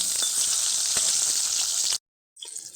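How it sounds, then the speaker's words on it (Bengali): Koi fish (climbing perch) frying in oil in a kadai, a loud steady crackling sizzle with small pops that cuts off abruptly, followed by a brief fainter burst after a short gap. "লাল লাল করে ভাজা হলেই নামিয়ে মাছ আবার লাল লাল করে ভাজতে"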